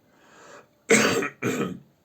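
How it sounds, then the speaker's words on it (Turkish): Two forced, effortful coughs from someone unwell and in pain, close and loud, the first sharp burst followed by a shorter second one after a brief gap. "zorla öksürüğüm bile zorla çıkıyor"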